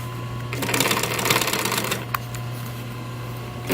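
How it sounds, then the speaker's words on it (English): A sewing machine top-stitching a vehicle headrest starts up after a short pause and runs in a fast, steady mechanical clatter for about a second and a half, then settles into a quieter hum with one sharp tick. "And continue back down to with your top stitching."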